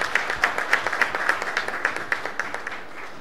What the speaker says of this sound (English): Everyone, please give a round of applause.